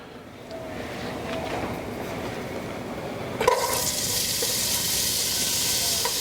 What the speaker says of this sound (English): We're going to get some olive oil going in our pot. Around 3-4 tablespoons. We're going to start with the carrots.